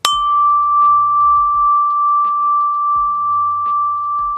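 A single clear tone from a ding-dong bell rings out and sustains steadily, with a few soft low knocks and handling sounds underneath.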